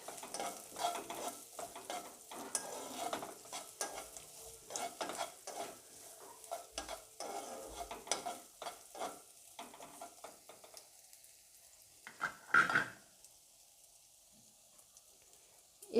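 Carrots, cashews and raisins fry with whole garam masala in a pan on a home stove, with a spoon stirring and scraping in quick irregular bursts over a soft sizzle; the stirring stops partway and the sizzle continues more quietly.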